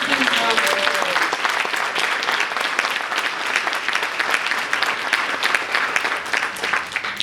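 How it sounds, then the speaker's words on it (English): Loud, sustained applause from an awards-ceremony audience for standing college and high school students, dense clapping throughout with a voice faintly audible at the start. "Give them a round of applause."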